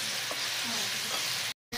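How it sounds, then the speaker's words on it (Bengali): Masala paste for a katla fish curry with raw banana fries in a pan, giving a close, steady sizzle and soft stirring scrapes before a brief dropout at the end. "ভালো করে মশলাটা কষাবো।"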